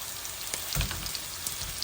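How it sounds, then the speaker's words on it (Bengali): Prawns sizzle and crackle in hot oil in a pan, a quiet steady frying hiss with a few soft pops. "এই আমি চিংড়ি মাছটা একটু ভাজা ভাজা করব।"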